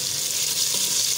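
Crushed garlic fries lightly in oil with onions in a pan, giving a steady, close, soft sizzling hiss throughout the brief moment.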